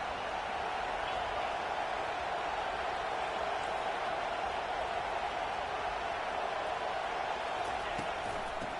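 Steady crowd roar filling an Arkansas football stadium, a dense continuous wash of cheering and noise held at the same level throughout, with no distinct voices standing out.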